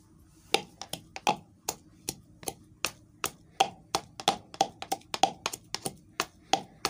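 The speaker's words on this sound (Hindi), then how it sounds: "ये लहसुन कूटेंगे।" Garlic being pounded for a mutton curry gives a steady run of sharp, close knocks, roughly two or three a second, with quiet kitchen background between strikes.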